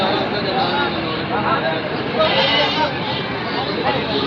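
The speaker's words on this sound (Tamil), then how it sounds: "ஆடு ப்ளஸ் ஒரு குட்டி." Goats bleating amid the crowd at a Tuesday goat market in Pambakovil, their calls rising over steady babble of traders talking nearby throughout.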